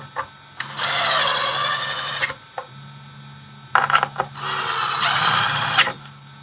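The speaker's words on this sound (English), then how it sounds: "So I'm going to screw the corner ones in first." A power drill drives screws to fix corner blocks onto a scrap-wood paint board, with two sustained whirring bursts separated by a short pause and handling clicks, close and loud.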